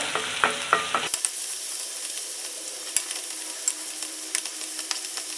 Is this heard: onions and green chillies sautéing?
yes